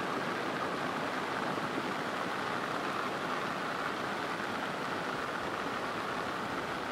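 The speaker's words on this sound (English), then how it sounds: "Start pouring like crazy." Heavy rain pours down steadily at a campsite on the Moose River Plains, a dense, continuous broadband hiss with no pauses or voices.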